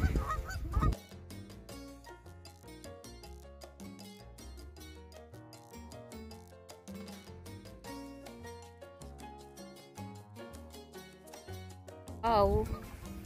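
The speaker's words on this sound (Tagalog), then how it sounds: "Who's gonna feed these duckies? Oh, geese." Geese honk at a park lake, loud nasal calls near the start and a burst again near the end, while people chat quietly and music plays steadily underneath.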